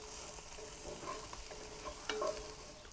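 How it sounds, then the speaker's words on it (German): Onions fry gently in a pan until glassy for an East German Würzfleisch ragout. There is a soft, continuous sizzle with a few faint stirring scrapes and light clinks, fairly quiet and with no voices. "Und auch die Zwiebeln, die werden wir so leicht glasig einmal anbraten."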